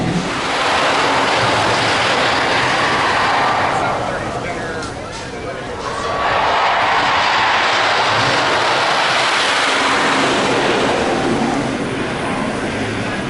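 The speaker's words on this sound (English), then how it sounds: "That is a fun coaster" A loud, continuous roar of a roller coaster rushing past at Six Flags Magic Mountain, easing briefly midway before surging again, with voices faintly underneath.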